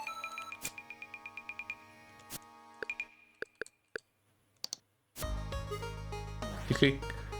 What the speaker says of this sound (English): I like the little selecting menu noise.